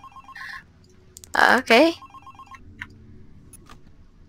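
Online call ringing tone, a short repeating electronic beep pattern broken by a brief spoken word, then continuing faintly at a steady pace.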